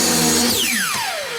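A power saw rips through a wooden board, a brief loud whine whose pitch sweeps sharply downward as the blade spins down.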